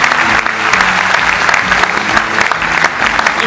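Dense, steady applause from a concert audience at a symphonic rock show, filling the hall without a break while band members are introduced.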